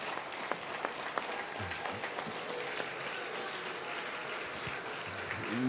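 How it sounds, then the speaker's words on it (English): Audience applause for Arkansas Martin Luther King Jr. Commission commissioners at a 25th anniversary celebration, steady, dense clapping from a crowd that holds even throughout, with a few sharper claps standing out and no voices. "Give them a round of applause."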